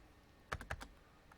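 A short burst of typing on a computer keyboard, three or four quick close clicks in a quiet room.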